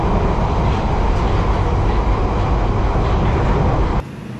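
A London Underground train runs with a loud, steady rumble and broadband roar that holds constant for about four seconds, then drops abruptly to a quieter hum.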